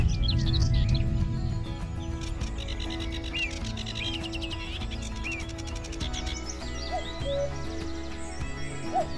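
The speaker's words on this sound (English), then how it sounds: "birdsong in the midst of the dawn chorus, when all the birds are just awaking and out competing with each other to be heard" Many birds sing and call together in a dawn chorus over a raised bog, overlapping chirps and trills steady and fairly close throughout, with no one speaking.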